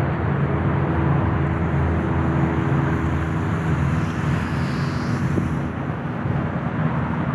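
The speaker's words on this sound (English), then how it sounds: "So I'm gonna bring it in for a landing here, see if I can bring it in for a landing without wrecking it." Eachine P-40 Warhawk micro RC fighter plane coming in to land on a windy day, a steady loud motor-and-propeller drone with a slight wavering whine, continuous and close.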